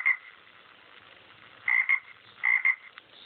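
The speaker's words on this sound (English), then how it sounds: "We won't hear them croak at night" Frogs croak in short paired bursts, a few clear high chirping calls separated by pauses against a quiet background.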